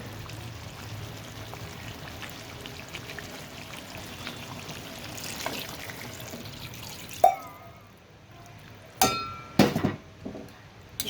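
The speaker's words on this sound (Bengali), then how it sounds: "জল শুকিয়ে গেছে, পানি দিয়ে দেব" Water poured into a pot of cooked-down chicken curry: a quiet, low background gives way near the end to short, close splashing pours and clatter.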